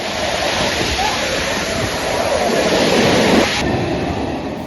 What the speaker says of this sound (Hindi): तेज बारिश के दौरान पहाड़ों से पानी तेज बहाव के साथ मंदिर के रास्ते पर बहता है